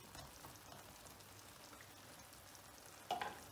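An egg cooks in a covered pan over low heat, steaming under the lid. A soft, even sizzle and crackle continues close by, with a brief louder clink near the end and no speech.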